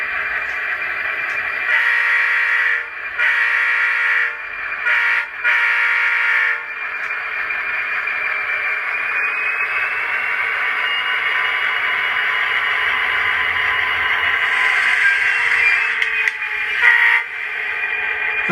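An HO scale Santa Fe EMD GP30 model locomotive from ScaleTrains' Rivet Counter line runs with its sound on, giving a steady electronic engine drone. A sustained horn blast sounds over it, with a few brief dropouts early on.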